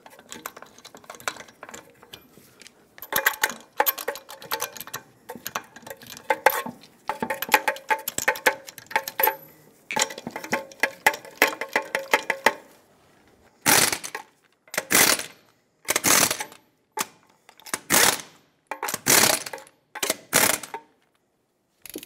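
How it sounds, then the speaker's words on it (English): Lug nuts being tightened on a 1996-2002 Toyota 4Runner wheel, torqued to 76 foot-pounds: a run of clicking ratchet and wrench mechanism sounds, followed by a series of sharp, separate clicks. No one speaks. "Put on all six of your lug nuts, bottom them out, and torque them to 76 foot-pounds."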